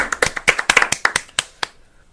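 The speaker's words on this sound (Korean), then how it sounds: "일단 박수 한번 치고 시작할까요?" A small group in an indoor podcast studio claps together for about a dozen quick, close hand claps that trail off into silence after under two seconds.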